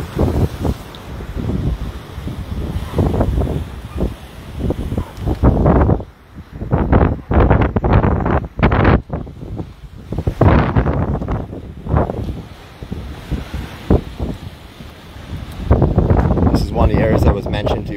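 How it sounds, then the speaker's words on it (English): A strong sea breeze blows over ocean waves on the Martins Bay coast of Barbados in the morning. Loud gusty wind buffets the microphone and the surf rolls beneath it. "just let you hear the breezes, hear the waves"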